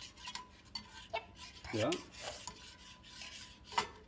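Scrambled eggs with Parmesan being stirred in a pan, soft scraping and rubbing strokes with a few clinks of utensil on metal, close by, a brief word spoken once.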